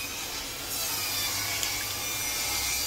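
A hand saw with a worn, dulling blade cutting through wood, producing a steady rasping scrape that stays close and fairly loud throughout, with no voices.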